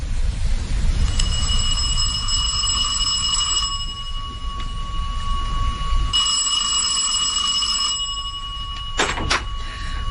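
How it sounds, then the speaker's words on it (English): A doorbell rings continuously and loudly for several seconds, pauses briefly, then rings again, with a steady rumbling background throughout. "the bell continued to ring for some considerable time"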